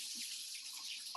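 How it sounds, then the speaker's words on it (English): A brief hiss of running tap water in a kitchen as a hand is rinsed of onion, soft and steady throughout. "I'm just going to rinse my hand because I've got onion on it"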